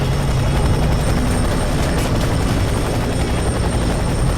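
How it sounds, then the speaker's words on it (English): In the video game F.E.A.R. 3, a helicopter roars loud and close with a constant rotor drone and engine whine, holding steady throughout. "A chopper, of course it's a chopper."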